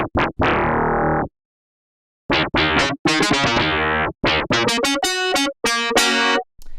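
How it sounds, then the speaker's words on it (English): Gritty FM synth patch from the Arturia DX7 V played dry with reverb off: a short tone, a pause, then a run of bright, buzzy, distorted staccato notes ending in sustained harmonic chords, loud and alone. "You don't gotta hide all that gritty FM behind some reverb."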